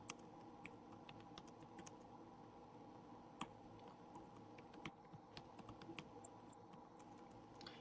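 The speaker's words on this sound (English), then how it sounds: "typing carefully." Fingers tap steadily on a computer keyboard, soft irregular clicks with occasional sharper keystrokes, faint and close over a low room hum with no talking.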